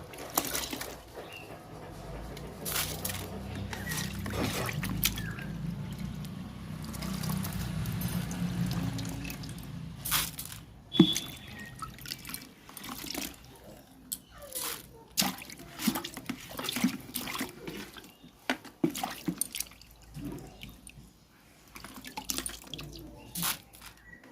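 Raw rice being washed and strained in water while making homemade puffed rice: steady close sloshing and pouring for several seconds, then a run of drips, splashes and small clicks as the water drains off.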